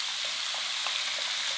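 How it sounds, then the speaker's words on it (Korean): Pork jjageuri with onions and seasoning sauce sizzles steadily in a pan while being stir-fried, a bright frying hiss broken by small pops and scraping stirs, with no speech. "그리고 볶는다."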